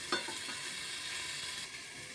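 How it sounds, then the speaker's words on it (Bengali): Vegetables for khichdi fry under a lid in a covered pan, a soft, steady hiss that stays faint and even, with one small clatter near the start and no talk. "এই যে এখন সবজিগুলো একটু ভাজা ভাজা হবে আর আমি একটু ঢাকা দিয়ে রাখছি"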